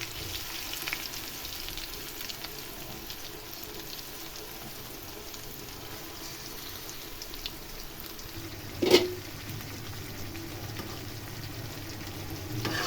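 Hilsa fish with onions fries in a pan, a steady soft sizzle and crackle throughout, with one sharp clatter partway through and a slightly louder sizzle afterward.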